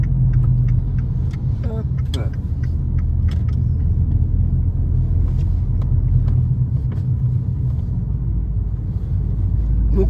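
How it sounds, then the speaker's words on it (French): An Abarth 500 on a road test gives a loud, continuous low engine rumble from inside the car, steady throughout, with a brief spoken word and a few faint clicks over it. "C'est vrai que la sonorité des Abarth, c'est toujours très sympa."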